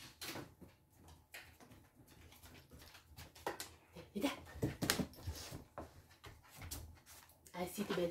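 A dog whimpers and shuffles close by in a home kitchen while a person speaks to it, with soft knocks and movement noises throughout.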